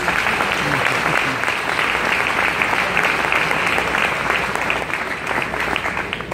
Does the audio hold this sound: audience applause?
yes